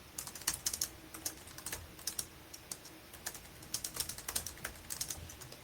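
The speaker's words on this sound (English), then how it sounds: "Can you hear me typing?" Keys on a computer keyboard clatter in quick, irregular bursts of typing, fairly close and fairly quiet, with short pauses between runs and no voices.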